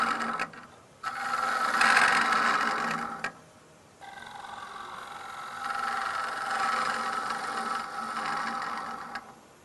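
Woodturning lathe with a gouge's bevel rubbing inside a bowl: a sustained whirring scrape that swells and fades in long passes, with brief drops as the tool lifts off.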